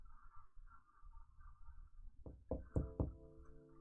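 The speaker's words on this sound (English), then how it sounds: "I was about to turn in for the night when I heard a knock on my door" A knock on a door in a video game: four firm, close raps in quick succession following a quiet, low hum.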